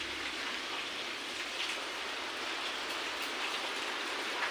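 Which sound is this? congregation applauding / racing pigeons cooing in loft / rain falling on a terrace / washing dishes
rain falling on a terrace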